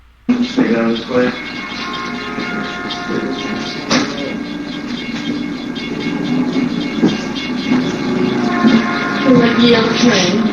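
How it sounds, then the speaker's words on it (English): A train passes near a station, a loud close rumble with clickety-clack rhythm, hissing and metallic squeals building over several seconds, with voices talking underneath. "you can hear the train coming"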